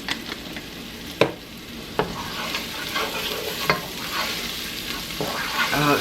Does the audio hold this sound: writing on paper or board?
no